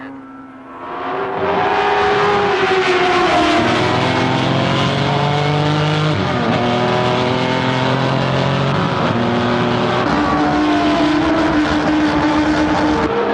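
Race cars roar into the first bend of a motor race, loud multiple engines with shifting, sliding pitches as they brake and accelerate through the corner, steady and close with no talk.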